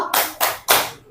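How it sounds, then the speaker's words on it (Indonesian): A group claps in three sharp, evenly spaced bursts, close and loud with brief gaps between them. "Tepuk wow."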